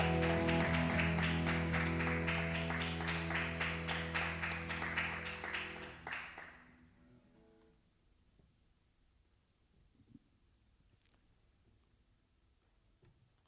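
A church congregation claps in steady rhythm along with loud worship music; the clapping and music fade out after about six seconds, leaving near silence with a few faint knocks.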